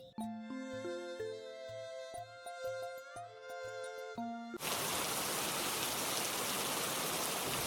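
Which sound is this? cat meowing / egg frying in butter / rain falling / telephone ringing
rain falling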